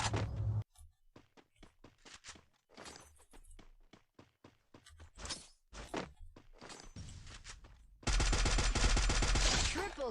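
Gunfire in a video game, with rapid clusters of sharp shots and bursts alongside footstep-like taps, followed by a sustained, dense roar of automatic fire near the end.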